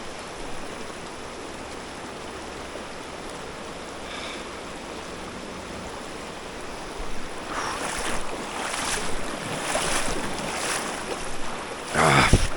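Rushing river water surges and swirls around a wader's legs in a trout stream, a steady broadband wash that swells louder and more turbulent in the second half, with sharp splashes near the end.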